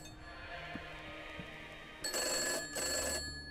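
A telephone rings in the video game Gray Dawn: a faint electronic tone first, then a louder, bright ringing burst that cuts off briefly and resumes, against a quiet eerie background.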